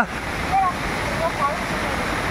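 Steady broadband rush of water at a waterfall in Cherrapunji, constant and fairly close, with brief faint whistles or voices rising over it now and then.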